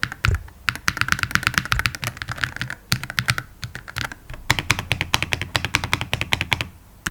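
Fast typing on a Wooting 80HE mechanical keyboard fitted with old stock switches, a dense run of close, crisp key clacks in uneven bursts with brief pauses, loud and alone.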